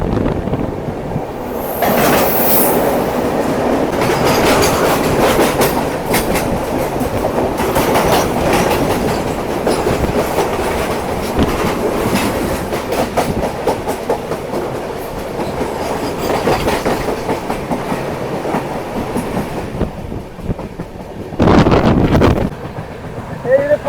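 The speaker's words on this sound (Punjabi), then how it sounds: "ਸਾਹਮਣੇ ਟ੍ਰੇਨ ਵੀ ਆ ਗਈ ਆ" A train rumbles past close by with a loud, continuous clatter of wheels on rails, buffeted by wind noise.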